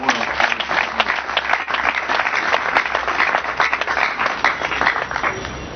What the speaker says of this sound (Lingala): Je vous prierai vraiment à mon nom de pouvoir les acclamer pour la présence de la parole.